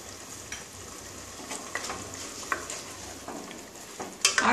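Ground spice being stirred into chicken tehari frying in a pot, a soft continuous sizzle with scattered scraping clicks of the spoon and a sharper clatter near the end, close and moderately quiet with no talking.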